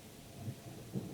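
Faint, low thunder rumbles twice in quick succession during a rainstorm in Alabama, soft and distant beneath a steady wash of rain.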